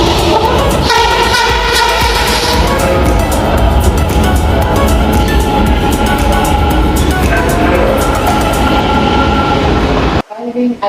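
Onboard a Manila LRT light rail train, a loud continuous rumble and rattle of the moving car runs for about ten seconds before cutting off abruptly.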